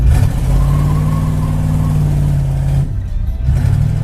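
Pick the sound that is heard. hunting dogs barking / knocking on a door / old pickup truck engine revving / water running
old pickup truck engine revving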